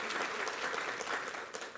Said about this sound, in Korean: 우리 하나님께 감사와 영광을 박수를 드리겠습니다.